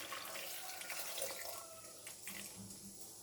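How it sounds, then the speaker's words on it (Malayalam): Water poured from a tap or jug into a pressure cooker holding potatoes with salt and turmeric, a steady continuous splashing stream lasting throughout, fairly faint and close. "ആവശ്യത്തിന് വെള്ളം ചേർത്ത് കൊടുക്കാം"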